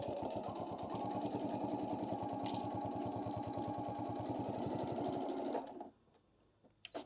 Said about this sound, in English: I'm just going to do a quick little top stitch all the way across